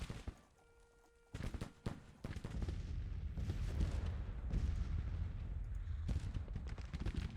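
Civil War troops firing in a strategy video game: after a quiet start, a ragged volley of musket and artillery shots erupts, followed by a steady, rolling din of gunfire and booms.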